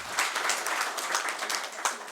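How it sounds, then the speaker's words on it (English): An audience at a university conference applauds a panel, a dense, even burst of many hands clapping at once, lasting a couple of seconds. "Please give the panelists a round of applause."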